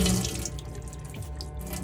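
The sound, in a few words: cold water running from a motorhome sink tap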